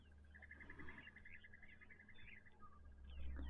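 Ring-necked (Cape turtle) doves call at a waterhole, a faint, rhythmic repeated cooing phrase rising from distant bush over a low outdoor background.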